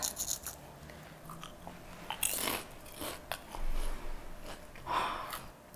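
Close, crisp bites and crunchy chewing of seaweed rice crisps come in several bursts with pauses between, with soft breathing and no talking.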